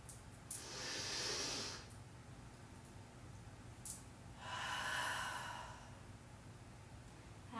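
Two long, audible exhales during yoga mark the last breath of a pose, each a soft, airy rush lasting about a second and a half. The room is quiet apart from a few faint clicks.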